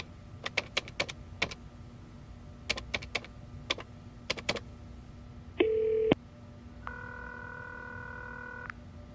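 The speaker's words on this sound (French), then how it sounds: "il a composé un numéro qu'il connaissait par cœur" A telephone number is dialed by hand: bursts of sharp button clicks in three quick groups, then a brief steady tone and a longer electronic ringing tone, close and with no voices.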